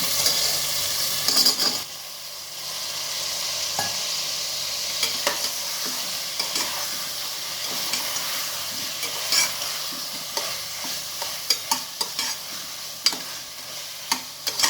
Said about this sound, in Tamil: இது அப்படியே சிம்மிலே வதக்கணும் நல்லா